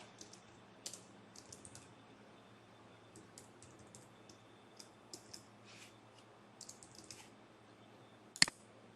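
Soft, irregular clicks of a computer keyboard as a password is entered, scattered keystrokes in small bursts over a quiet hum, with one sharper louder click near the end.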